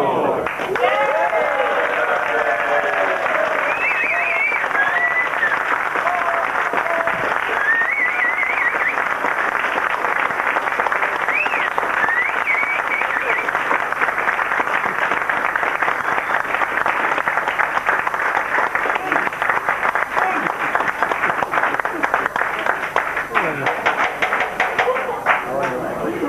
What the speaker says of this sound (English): Because of your tremendous applaud